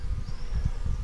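A steady, dense buzzing of honeybees around a hive in Baybay City, Philippines, continuous and fairly close, with a low droning hum and faint outdoor rustle beneath.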